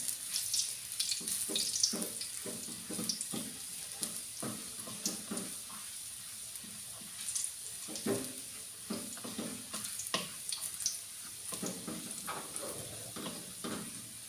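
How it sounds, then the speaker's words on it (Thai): Garlic fries in oil in a pan, giving a continuous close sizzle broken by repeated scraping and stirring strokes, with no voices over it. "เจียวกระเทียมให้หอมก่อนนะคะเพื่อน"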